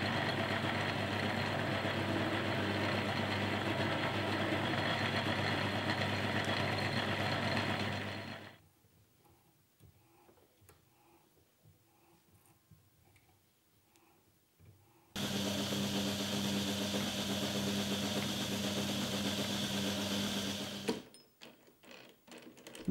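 A metal lathe taking a cut in back gear mode gives a steady mechanical whir that stops partway through, leaves a quiet gap with faint ticks, then resumes before stopping again.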